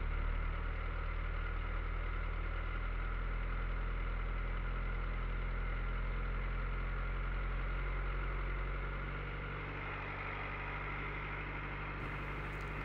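A car engine idles close by at a steady, slightly raised hum after a cold start with an engine preheater, then settles a little lower toward the end, no voices present.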